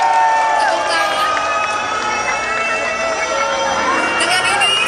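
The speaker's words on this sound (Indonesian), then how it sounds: "Tepuk tangan." Crowd at the opening of a breast cancer education event in Jakarta breaking into loud sustained applause and cheering, with voices shouting and babbling throughout.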